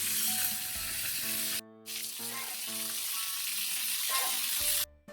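Dried tilapia (daing) frying in a pan, a steady broadband sizzle and crackle running throughout, with a brief sharp drop near the middle and again near the end, up close with no talking.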